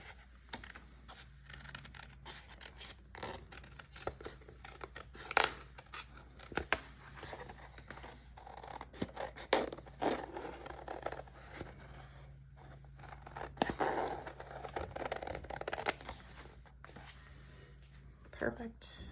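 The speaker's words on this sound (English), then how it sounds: "I'll get all this trimmed, and then we'll just go back and trim what needs to be trimmed." Scissors snipping paper craft cottage pieces in many quick, irregular cuts, close but fairly soft, with a person talking intermittently.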